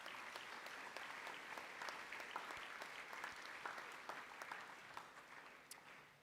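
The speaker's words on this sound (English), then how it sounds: "Can we give them a round of applause," Students at a high school HSC high achievers' assembly give steady applause, a continuous wash of many hands clapping at an even level throughout, somewhat distant and soft.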